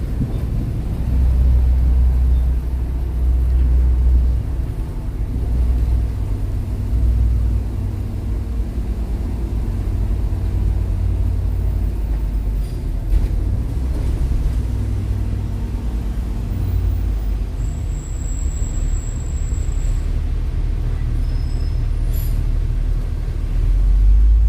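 Low, steady engine rumble and road noise from inside a tour bus driving around Darwin, continuous and close for the whole stretch, with no talk.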